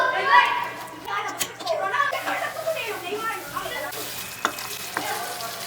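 Tomato masala frying in oil for dhaba-style paneer, a steady sizzle with soft scraping stirs, close, while someone talks over it and a few clinks of a spoon sound near the end.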